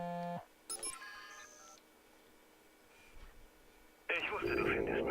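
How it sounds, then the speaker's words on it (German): Mobile phone ringing in the video game Watch Dogs: a short electronic tone, then bright chirping ringtone beeps, followed by a quiet gap before a burst of louder noisy sound near the end. "Handy klingelt."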